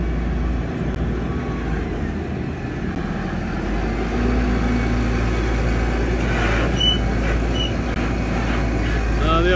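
A JCB tractor drives in on a farm, its steady low engine rumble holding throughout and growing a little louder toward the end as it nears, with no talk over it.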